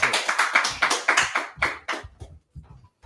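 A small group claps in scattered bursts that thin out into a few isolated claps, fairly close and loud, with no talk over them.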